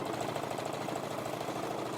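A Janome 15000 sewing machine fitted with the AccuFeed foot runs a straight stitch through patchwork, giving a steady, fast mechanical whir and rapid ticking hum close up and continuous throughout.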